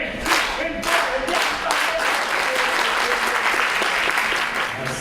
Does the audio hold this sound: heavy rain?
no